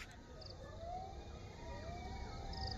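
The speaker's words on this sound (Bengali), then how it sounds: "শুধু শিয়াল কুকুরের ডাক।" Jackals howl at dusk near a quiet rural railway station, faint rising and falling wails drifting from a distance over a low outdoor hiss.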